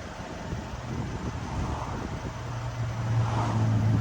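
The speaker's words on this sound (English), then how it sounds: "Car is coming up." A 2016 Mercedes R231 SL550 raising its suspension gives a steady low hum with a rising tonal whine toward the end, heard up close over faint wind-like background noise, with no talking.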